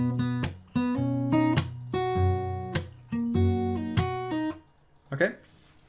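Acoustic guitar plays bars 43 and 44 of a fingerstyle arrangement, a close, moderately quiet phrase of plucked notes and chords in a loose rhythm, ending with a brief muted scrape.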